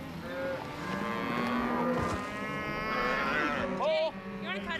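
Cattle bellowing and mooing at a ranch branding, several long drawn-out calls from nearby animals overlapping, with some background activity and a faint voice.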